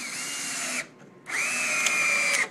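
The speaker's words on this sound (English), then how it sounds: "With composite deck boards, you do need to pre-drill." A power drill pre-drills a composite deck board in two short bursts, a high whining motor spin, a brief pause, then a longer run, close and alone.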